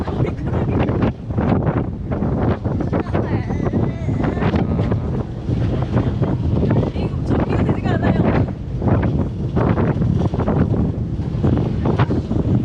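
Strong wind buffets the microphone aboard a ferry on Sydney harbour, a loud continuous roaring rumble with gusty surges, and people talk faintly underneath.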